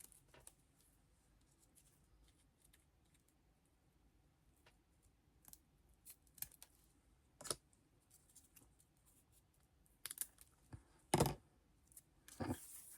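Scissors trimming overhanging paper on a scrapbook advent calendar page, a few short, sharp snips and clicks scattered across a quiet background, with the clearest cuts near the end.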